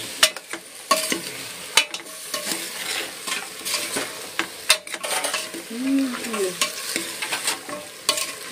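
A potato and garam masala mixture stirred in a pan, with a spoon scraping and clacking against the metal in irregular strokes over a steady close sizzle.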